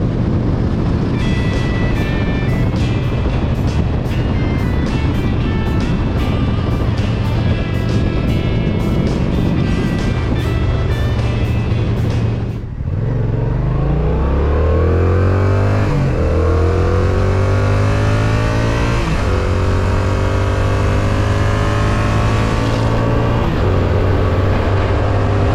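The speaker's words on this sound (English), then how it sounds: "For a stock exhaust, it sounds really good." A 2024 Yamaha MT-07 motorcycle with stock exhaust revving up loudly through the gears, the pitch climbing repeatedly as it accelerates, close and continuous.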